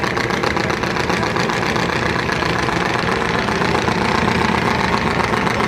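Passenger launch on a river in Bangladesh, its engine running in a loud, steady, close drone with a rapid knocking pulse throughout, no pauses.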